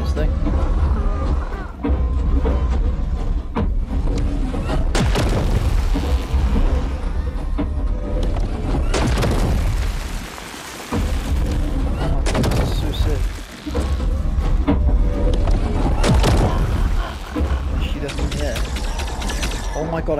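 Gunfire in the game ARK rattles almost continuously in loud, dense bursts over a rumbling backdrop, with two short breaks before the shooting picks up again.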